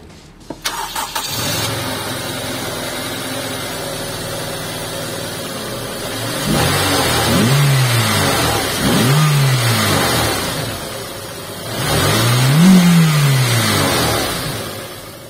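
A Honda Civic Type R EP3 with its K20A four-cylinder cranks and fires, settles into a steady idle, then gets blipped through several rising and falling revs, the last one longest and highest, loud and close.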